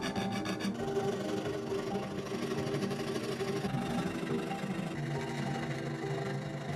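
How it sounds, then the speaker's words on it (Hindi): A small hand saw cuts through a Lego-built kitchen knife clamped in a vise, giving a continuous, fairly quiet rasping of rapid back-and-forth strokes that never pause. "अपने चाकू को एक छोटी सी आरी से काटना शुरू कर दिया"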